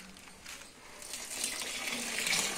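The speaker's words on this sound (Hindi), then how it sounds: "थोड़ा और पानी डाल दीजिए।" Water is poured into a plaster of Paris mix for building work. It makes a steady, soft, close gushing pour that grows slightly louder as it goes on, with no talking.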